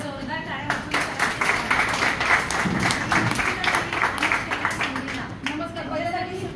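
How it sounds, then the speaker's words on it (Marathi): Audience at a Shatayushi family camp breaks into applause, a dense steady patter of many hands lasting several seconds, with a voice speaking faintly over and after it. "आपण जोरदार टाळ्या वाजवून"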